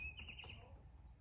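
Faint, high chirps repeat in a quick series near the start, then fade, set against a low outdoor rumble.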